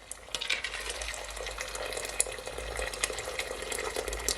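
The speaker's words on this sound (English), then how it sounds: "Then I'm gonna add some hot water from my kettle." Hot water from a kettle pours into a cooking pot holding rice, peas, ginger and garlic, a soft continuous splashing and trickling stream with a few faint clinks, fairly quiet and close.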